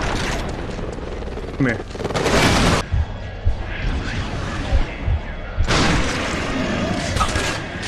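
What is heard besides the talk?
auger weapon fire in the video game Resistance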